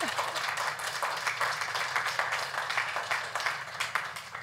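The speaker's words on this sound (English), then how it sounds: "so we want to give you a big applaud." An audience at a livestreamed Swedish event breaks into sustained applause, a dense steady patter of many hands clapping at close to moderate distance for the whole stretch.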